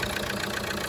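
A car engine idles steadily just after starting, a continuous close mechanical hum with a faint regular pulse and no voices.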